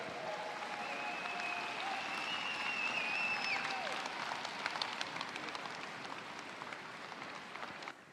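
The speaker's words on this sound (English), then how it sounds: "Let's give them a round of applause." An audience at a FIRST Tech Challenge robotics championship in Oregon claps for the advancing teams, producing a dense, sustained wash of applause that slowly thins toward the end.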